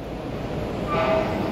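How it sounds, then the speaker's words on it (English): A New York City subway train rumbles through a busy station served by four lines, a steady loud roar swelling slightly toward the end with a brief high squeal of wheels or brakes. "busy station with 4 trains running through it"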